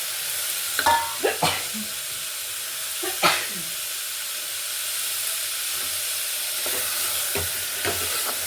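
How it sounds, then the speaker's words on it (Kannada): Cut carrots and potatoes fry in oil in a pan for vegetable pulao, giving a steady close sizzle with a few scraping stirs. "ಚೆನ್ನಾಗಿ ಫ್ರೈ ಆಗ್ತಾ ಇದೆಯಲ್ವಾ ನೋಡಿ"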